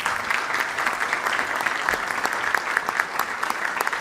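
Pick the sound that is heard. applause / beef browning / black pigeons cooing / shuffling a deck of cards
applause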